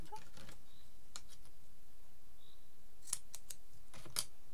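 Scissors cutting a piece of 3D craft foam, a few crisp snips in small clusters, close and quiet against a hushed room.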